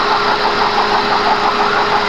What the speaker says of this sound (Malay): Sini, nih kita sentuh sini water pump. Dia punya bunyi kuat sini.